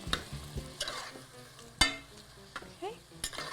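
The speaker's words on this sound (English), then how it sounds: "Stir that in there." Hushpuppy dressing with boiled chopped chicken livers and gizzards stirred in a pot, giving soft scraping and clinking spoon strokes in short irregular bursts over a faint background sizzle.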